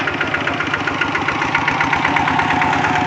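Tractor engine running while hauling rice to a drying yard, a steady close mid-pitched chugging with rapid rhythmic knocking pulses throughout, loud and continuous with no voices.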